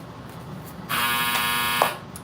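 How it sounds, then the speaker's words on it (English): A household clothes dryer's end-of-cycle buzzer sounds as one steady electronic tone lasting about a second, fairly loud and alone against a quiet room. "That was my dryer."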